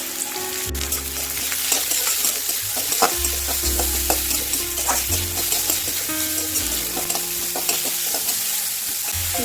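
Chopped onions fry in hot oil over a high flame with whole garam masala, a continuous close sizzle punctuated by repeated scraping and stirring strokes of a spoon against the pan.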